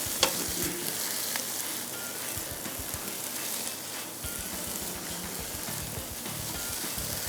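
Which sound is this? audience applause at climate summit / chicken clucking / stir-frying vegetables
stir-frying vegetables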